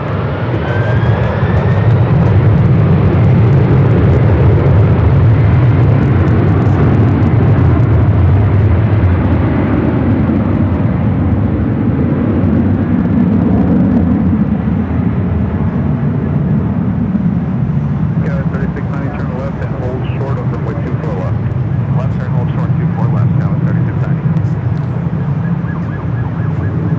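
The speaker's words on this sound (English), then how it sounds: "This is Delta Airlines 446 taking off to Atlanta on the 767-400 ER." A Delta Air Lines Boeing 767-400ER takes off from Los Angeles International Airport, its loud jet engine roar building near and strong early, then easing as it climbs away, with a commentator talking intermittently over the noise.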